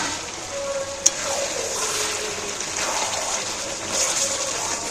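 Fried potatoes being stirred and sautéed with chicken curry in a pan, a continuous soft sizzle with watery bubbling and one sharp clink of a utensil early on.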